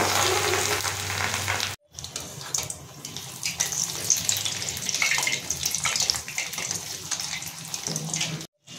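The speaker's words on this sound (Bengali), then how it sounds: "এদিকে ভাজা হচ্ছে আর আমি অন্যদিকে একটা মশলা করে নেব।" Bottle gourd leaf fritters fry in hot oil with a steady, bright sizzle and crackle that runs on without a break, cut by two short silent gaps.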